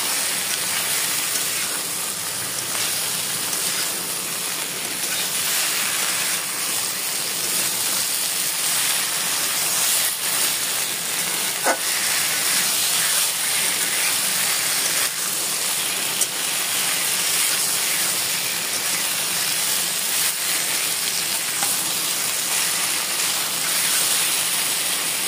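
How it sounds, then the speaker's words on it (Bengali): Ridge gourd frying in a pan with salt, turmeric, ginger-garlic paste and cumin paste for a light Bengali fish curry, giving a continuous even sizzle and hiss at close range with an occasional faint click of a utensil. "দিতে হবে সামান্য লবণ, হলুদের গুঁড়ো, আদা রসুন বাটা, জিরা বাটা দিয়ে একটু খুব ভালো মতো ঝিঙের সাথে একসাথে ভেজে নেব"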